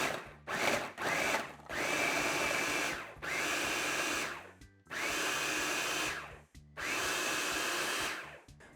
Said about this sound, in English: Now we're going to blend everything together again until our butter is nicely cut into our mixture